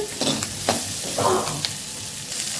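Sweet potato pieces fry in a pan for a tangy pulusu, giving a steady close sizzle broken by light stirring scrapes and crackles.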